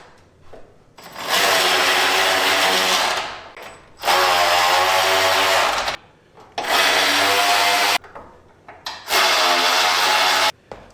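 A power ratchet drives 5/8 bolts on a 1969 Ford F100 during suspension work, sounding as four loud, close whirring bursts of a few seconds each, separated by short pauses.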